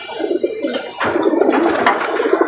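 Several caged male pigeons coo close by in soft, overlapping throaty calls that continue steadily throughout, with no talking.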